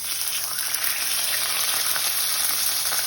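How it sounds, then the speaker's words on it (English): Chicken fillet frying in a pan for a quick lunch: a steady, close, crackling sizzle hisses continuously with no talking. "You can hear it sizzling."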